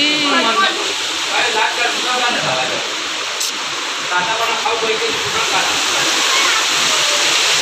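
Dense, steady hiss of heavy monsoon rain pouring throughout in a Konkan village, with voices talking faintly underneath at the start.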